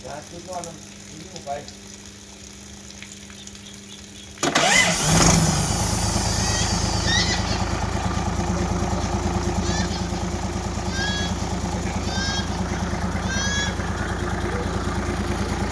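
A P11C 320-horsepower engine sits quiet at first, then cranks and catches a few seconds in and settles into a loud, steady, even running idle that carries on to the end, with a voice talking over it.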